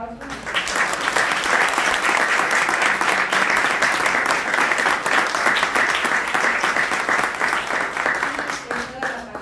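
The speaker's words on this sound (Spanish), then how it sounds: "Por favor, regalémosle un aplauso." An audience at a human rights and literary culture conference applauds steadily for several seconds, a dense, close wash of clapping that swells and then tapers off.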